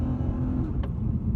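A Lexus RC F with its V8 engine and exhaust gives off a steady low, throaty drone, held at a constant level with no clear revving peaks.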